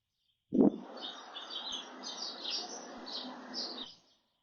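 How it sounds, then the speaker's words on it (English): Birds sing outdoors, faint and distant, with a soft chirping twitter lasting a few seconds after a brief knock, heard alone without talk. "if you notice the beautiful birds singing, which relax you, that's fine too"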